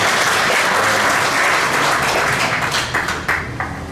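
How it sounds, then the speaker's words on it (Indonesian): Dense, steady applause from a mosque congregation during a Ramadan tarawih gathering in Yogyakarta, a close, continuous wash of many hands that holds strongly for several seconds, then thins and tapers off toward the end. "tepuk tangan untuk"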